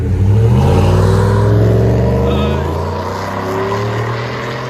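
A Chevy/GMC 6.2L V8 fitted with a Black Widow exhaust revs up loud and close, then settles back to a deep, steady idle rumble.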